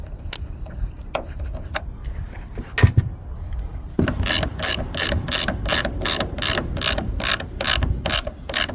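A ratchet tightens screws during a rear backup camera install on a Mercedes-Benz. After a few scattered clicks and knocks, a close, loud run of evenly spaced ratcheting clicks follows, with no talking.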